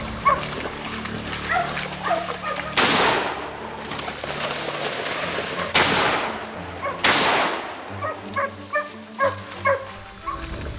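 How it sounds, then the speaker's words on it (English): Rifle shots go off during a wild boar hunt, with several sharp cracks spread across the clip amid barking and yipping dogs. "a shot misses"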